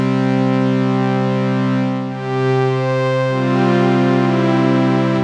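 A sustained, buzzy synthesizer tone whose bright upper harmonics roll off partway through as a low-pass filter closes, leaving a darker, duller sound held steady to the end.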